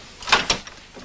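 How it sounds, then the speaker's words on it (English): An apartment door being opened, heard as two quick, close clacks of the latch and handle followed by a faint softer knock, with no talking. "Hank, check out who it is before you open the door"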